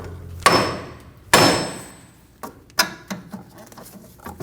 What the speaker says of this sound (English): Using a hammer, we're going to hit the side of the knuckle to break the tension free.